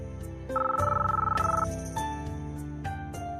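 A telephone rings in a home scene from a Marathi TV serial, a bright electronic ringtone with repeating tonal chimes playing loud and steady over soft background music, with no one speaking over it.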